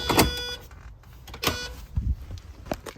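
A faulty relay inside a Saab 900 interior gives several sharp clicks and a brief electric whir, close and fairly faint, spaced irregularly over a few seconds.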